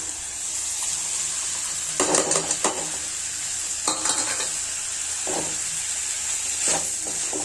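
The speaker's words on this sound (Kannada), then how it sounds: "ಇದಕ್ಕೆ ಕಾಯಿನ ಹಾಕೊಂಡು ಹುರ್ಕೊಳ್ಳೋಣ" Egg sambar masala with coconut and tomato sizzles steadily in a pan, with several bursts of scraping as a spoon stirs it.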